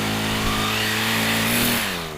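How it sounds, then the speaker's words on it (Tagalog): An engine runs with a lot of grass tangled around it, giving a loud, steady mechanical drone whose pitch dips near the end as it slows slightly. "Ang daming damo na pumupulupot sa makina."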